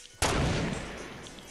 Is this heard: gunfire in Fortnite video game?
yes